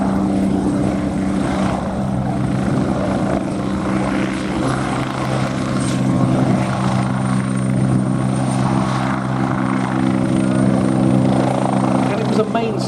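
An Army Air Corps light battlefield helicopter, in service from 1963, flies past at an air show in Abingdon with a loud, steady droning engine and rotor hum, while a commentator speaks over it throughout.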